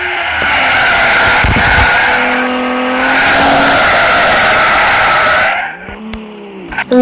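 Tires squeal loudly and continuously as a car drifts, a sustained close skid lasting several seconds before cutting off, with engine noise after.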